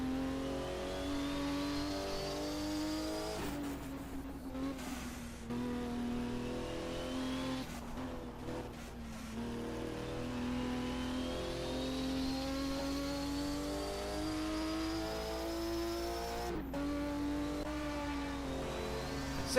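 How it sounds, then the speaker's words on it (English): Porsche race cars in a 1980 DRM Division 2 round at a German circuit, engines revving steadily with rising pitch sweeps as cars accelerate and pass, loud and continuous throughout with no talk. "Let's use this opportunity to listen to some sweet Porsche music."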